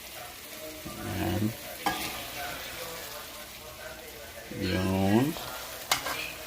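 Garlic frying in a pan while cooking pork adobo gives two clear sizzling bursts from stirring against a steady background hiss, with people talking briefly in between.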